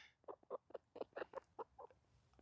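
Quiet, rapid clucking from chickens nearby, a string of short soft calls in an uneven rhythm.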